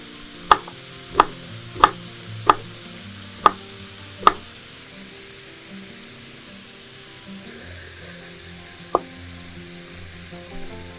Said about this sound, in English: I'm gonna cut my onion here.